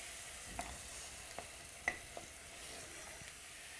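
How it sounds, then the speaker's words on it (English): Tinned tomatoes stirred in a pan as a base for spiced cauliflower: faint, quiet sizzling broken by a few soft spoon scrapes and taps against the pan. "Give that a good stir, and this will actually create the base for the cauliflower to go in."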